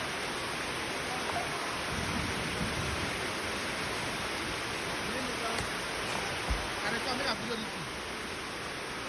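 Steady rain water leaking through a poultry house roof and down the side of a wall, a continuous broadband wash of falling water with faint patters, sounding close and fairly even throughout.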